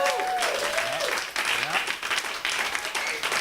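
An audience applauds a musical act, with steady clapping running throughout and a voice talking over it.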